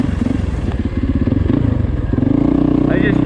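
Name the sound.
Yamaha YZ450FX dirt bike engine running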